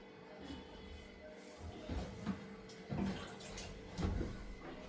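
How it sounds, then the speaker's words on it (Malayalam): Water is poured into a pot of rose petals set on a stove, a soft splashing and trickling in uneven surges that swell a few times over a low, steady background. "നമ്മൾ ഇങ്ങനെ വെള്ളം ഒഴിച്ച്"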